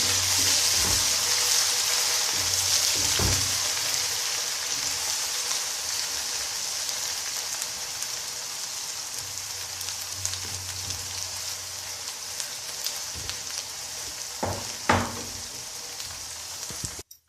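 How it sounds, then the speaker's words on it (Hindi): A steady, hissing sizzle of onion frying with ginger garlic paste in a pan, close and fairly even, with a few faint clinks and stirring knocks near the end. "अब इसमें शामिल करेंगे अदरक लहसुन का पेस्ट, ताकि ये भी साथ जो है वो ब्राउन हो जाए"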